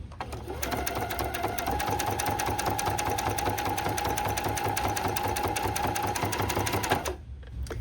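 A sewing machine runs continuously up close, stitching bias tape onto a needlepoint canvas with fast, even needle chatter for about seven seconds before stopping abruptly.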